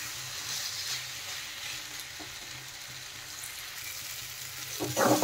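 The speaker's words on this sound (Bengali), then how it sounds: "মশলার সাথে আলু আর পটল দেখেন খুব ভালোভাবে কষানো হয়েছে, পুরো গামাখা হয়ে গেছে মশলা।" Potatoes and pointed gourd fry in spices with a soft, steady sizzle that stays fairly quiet and close. A brief utensil scrape comes near the end, and no one speaks.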